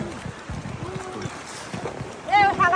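Riding in a small tourist boat carrying four or five people, with a steady wash of water and wind rushing past and people talking over it throughout.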